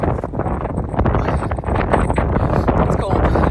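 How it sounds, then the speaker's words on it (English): Steady, blustery cold wind on a mountain trail between Roncesvalles and Zubiri buffets the microphone throughout, a dense rushing roar with gusty swells and no clear pauses. "It's cold and windy."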